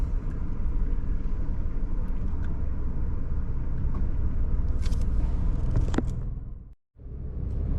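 Car driving through the narrow streets of San Juan's old town in Puerto Rico, a steady loud engine and road rumble throughout, with a brief sharp drop to near silence near the end before the drive noise resumes.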